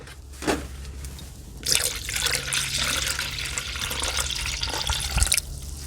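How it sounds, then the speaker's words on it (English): Water pours and splashes into a Honda Ridgeline radiator opening in a steady stream, with a few clunks and a brief drip before it starts, close by. "I just keep filling this up with water"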